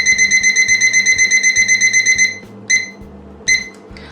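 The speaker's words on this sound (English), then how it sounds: "So I'm going to put my kitchen timer on for 25 minutes." A kitchen timer beeps loudly and close in a rapid continuous run of electronic tones, then gives two short separate bursts, with no talk over it.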